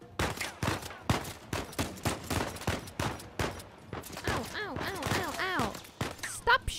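Guards firing guns in Uncharted 4: A Thief's End, heard as a string of sharp, fairly quiet shots in irregular bursts, with a voice exclaiming and gasping over the gunfire.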